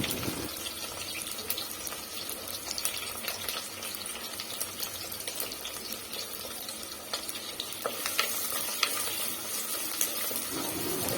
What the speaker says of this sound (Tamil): இப்போ சின்ன வெங்காயத்தை சேர்த்துருங்க வெங்காயம் நல்லா வதங்கட்டும்